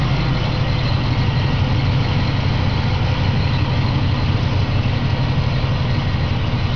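A 2000 Chevrolet conversion van engine idles steadily outdoors, a constant low rumble at close range with no pauses or voices.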